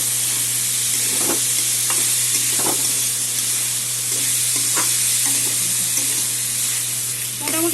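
Cauliflower, cabbage, onion and green chillies fry in a pan with a steady loud sizzle, broken by repeated scraping stirs of a utensil, with no talk.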